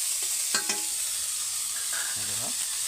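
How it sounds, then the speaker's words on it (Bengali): Onions frying in a pan for a tomato and dried-fish chutney, a constant loud sizzle with a spoon stirring through it, a few brief scrapes and faint voices underneath. "পেঁয়াজটাতে ভালো করে ভেজে নেব একটু লালচে লালচে করে"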